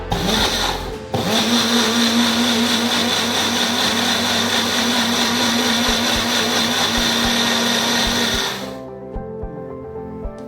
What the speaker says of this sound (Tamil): இப்போ நம்ம இதை அரைச்சிக்கலாம்